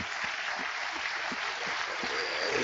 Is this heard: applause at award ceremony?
yes